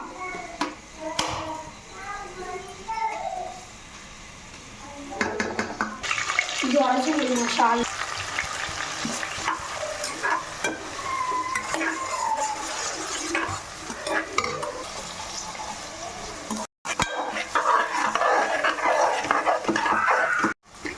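Ground onion paste cooking in a chicken biryani gravy, with a continuous sizzle and repeated stirring and scraping in the pan, close and fairly loud, with brief pauses and some background household sound.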